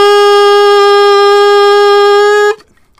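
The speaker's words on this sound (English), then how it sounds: "If I put that mouthpiece in my mouth and just blow air into the mouthpiece" An alto saxophone mouthpiece with ligature and reed, blown alone without the neck or body, gives one loud, buzzy, bright sustained tone that cuts off abruptly after about two and a half seconds.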